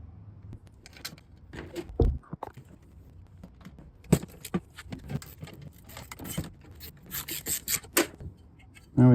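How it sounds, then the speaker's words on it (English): Metal bolts clink and scrape as they are threaded into a propane tank mount on a popup camper, with scattered rattles, taps and rubbing sounds in uneven bursts. "So I'm gonna put 2 of the bolts on."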